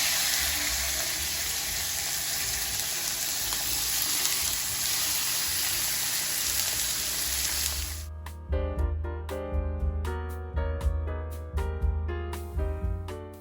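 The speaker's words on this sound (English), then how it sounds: "I am browning the chicken on both sides, and then I will set it aside to rest." Chicken browning in a hot pan, a loud continuous sizzle and crackle for several seconds that then falls away, leaving spaced clinks and metallic taps with a low hum underneath.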